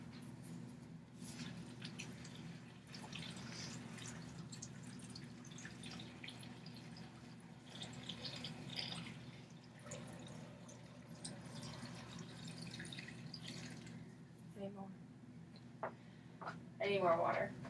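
Water is poured over apples in a container for 1800s-style homemade apple cider, faint dripping and trickling under people talking nearby.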